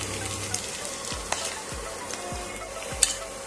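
Tomato puree mixed with ground spices sizzles steadily in a hot pan for chicken kosha, with a few soft scrapes of stirring rising above the continuous frying hiss; no voices.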